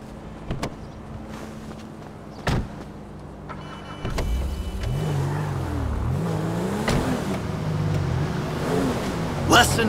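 A car engine in Grand Theft Auto V revs and shifts pitch up and down over a steady rumble, following a few sharp door-like clunks, moderately loud with background game noise.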